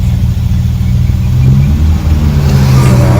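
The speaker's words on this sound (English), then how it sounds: "Driving the 51 Mark 7 following 64 E-Type." The engine of a 1951 Jaguar Mark VII rumbles loudly and steadily from inside the car while driving, with a heavy low drone that swells slightly as it pulls along.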